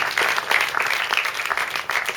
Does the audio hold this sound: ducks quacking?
no